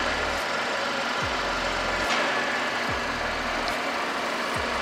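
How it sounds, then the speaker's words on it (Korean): A steady Mercedes-Benz SLK 200 BlueEfficiency (R172) engine idles nearby with a low, even rumble and faint periodic ticks, no voices present. "엔진 소리 일정하고 좋습니다"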